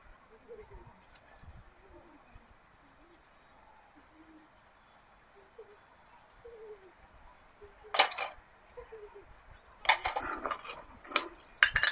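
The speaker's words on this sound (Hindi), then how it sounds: "अब मैं फटाफट से बर्तन साफ़ कर देती हूँ" Dishes being washed by hand outdoors at a home in a hill village, with sparse clinks of utensils and then bursts of clattering metal pots and plates toward the end. A faint voice is heard earlier.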